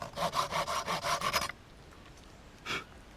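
A hand saw cuts through a wooden spoon blank, about eight quick rhythmic rasping strokes close up, then a single short scrape after a pause.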